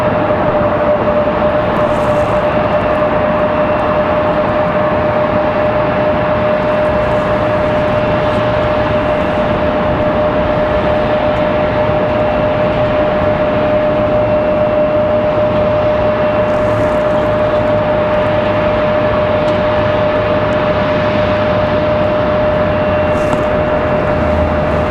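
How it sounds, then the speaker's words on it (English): An Airbus A220 jet departs from Raleigh Durham International Airport as a steady, loud, broadband engine roar with a sustained tone, holding constant for the whole stretch without voices. "Getting ready to have that A220 departure"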